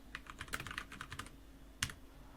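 Quiet keystrokes tapping in a quick, uneven run on a computer keyboard, with one sharper key strike near the end; no voices.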